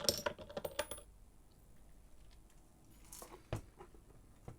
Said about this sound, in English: shuffle the charms.